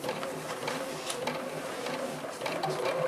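A sewing machine stitches down a diamond shape on a quilt, giving a steady, fairly quiet mechanical whir with fine rapid ticking from the needle.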